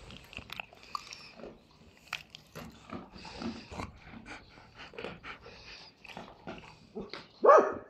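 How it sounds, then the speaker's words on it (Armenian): Dogs snuffle and chew quietly nearby for several seconds before one sharp, loud bark bursts out near the end. "Անիմաստ հաչում եք, այնտեղ մարդ են տեսել, բա չհաչանք։"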